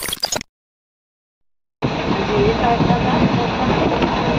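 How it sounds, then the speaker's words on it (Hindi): A local train at Muzaffarpur railway station, heard after a brief dropout as a steady rolling rumble with faint wheel clatter, close by among a crowded platform's background noise. "लोकल ट्रेन आई, ये देखो लोकल में कितना पब्लिक निकली है"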